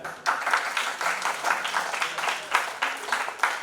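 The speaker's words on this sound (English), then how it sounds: "Still you can clap for him." An audience claps steadily, a dense patter of many hands at moderate volume from nearby, with faint voices underneath.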